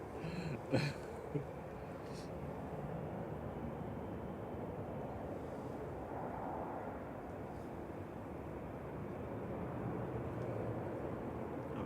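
A Ryanair jet from Charleroi arriving at Manchester Airport, its engines a broad, steady roar that holds evenly throughout, with a couple of faint thumps near the start.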